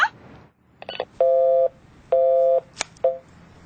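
Telephone tones come through in a quiet room: two long steady electronic beeps, then a shorter one, with a few softer clicks and rustles between them.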